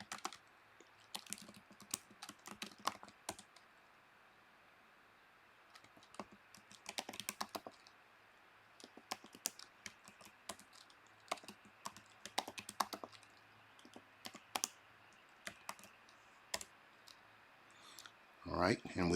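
Password being typed on a computer keyboard to set an admin login: bursts of quiet, close keystrokes clustered in short runs with pauses between, low in level, ending in a brief louder shuffle.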